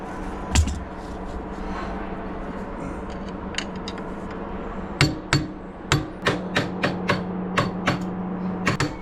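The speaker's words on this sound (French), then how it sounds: "fais avec le marteau, c'est pas grave" A hammer strikes a scooter being modified: one sharp clang early, a few light taps, then about a dozen loud metallic blows in a quick, fairly steady rhythm over a low, constant hum.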